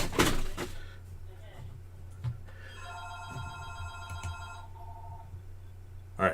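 A telephone rings in a quiet indoor room, its bell tone sounding in a steady repeated pattern over a low hum, with a faint bump or thud at the start and end.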